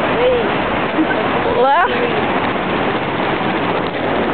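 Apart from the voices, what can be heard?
ocean waves at Pismo Beach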